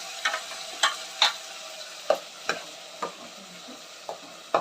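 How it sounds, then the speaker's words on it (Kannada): Ground masala paste goes into sambar in a pan and gets stirred, with a series of soft scraping knocks and a light sizzle under them, spaced irregularly and close, with no talking. "ನಾವು ರುಬ್ಕೊಂಡಿರೋಂಥ ಮಸಾಲೆನ ಇದಕ್ಕೆ ಹಾಕಬೇಕಾಗುತ್ತೆ ಸ್ನೇಹಿತರೆ ಅದು ಇದಕ್ಕೆ ಹಾಕ್ತಾ ಇದ್ದೀನಿ"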